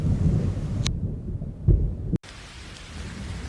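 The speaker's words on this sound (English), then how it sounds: "awake by a loud noise. It was the thunder" Deep rumbling thunder rolls under steady heavy rain in a storm at sea with strong wind, with a sharp crack partway through before the downpour continues.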